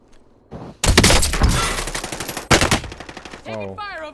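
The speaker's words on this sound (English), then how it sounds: "Taking fire over here." Gunfire in Call of Duty Warzone: rapid automatic bursts crackle loudly and close, with shorter volleys following, and a player's voice cuts in near the end.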